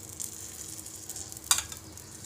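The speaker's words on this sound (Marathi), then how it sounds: "आता यावर थोडंसं तेल टाकून घ्यायचं." Oil sizzles on an onion uttapam cooking on a hot griddle, a steady soft frying hiss with a sharper crackle about two-thirds through, with no talking.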